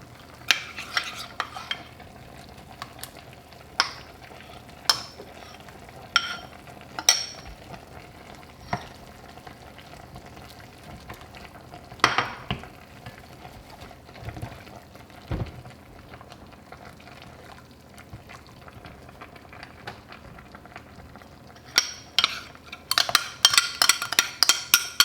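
Flour and water being stirred into a sizzling pan of pears, green beans and bacon, with intermittent scraping strokes over a steady frying hiss and a louder burst of clatter near the end; no talking.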